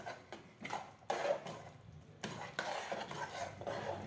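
A spoon scrapes and stirs through thick bisibelebath in a pot, in short irregular strokes with light metallic clinks, fairly quiet and close.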